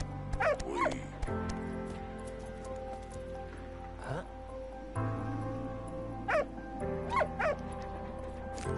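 A dog in the World War I video game Valiant Hearts barking and whimpering, several short yips and whines in separate bursts over a low game soundscape, with a player talking now and then.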